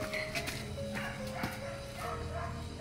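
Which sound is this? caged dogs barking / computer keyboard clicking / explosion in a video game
caged dogs barking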